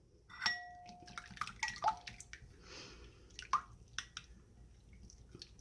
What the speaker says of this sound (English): Now I'm going to have my olive oil, and I just do a little splash in there of that.